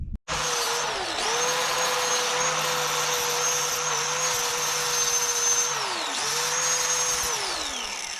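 A 5/8 inch zinc plated steel shaft is cut for an Allis D17 three-point link repair, a loud steady power-tool whine running nearly continuously, dipping in pitch twice as the blade bogs into the metal, with no talking.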